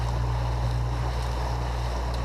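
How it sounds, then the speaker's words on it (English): A Suzuki 115 four-stroke outboard motor drives a boat across Chickamauga Lake, a steady low drone under rushing wind and water noise, close and constant throughout. "Just got outfitted with my new motor, Suzuki 115"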